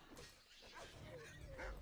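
Wolf in the video game Assassin's Creed Odyssey, heard as short whimpering yips and canine cries, close and fairly soft, over a steady game background.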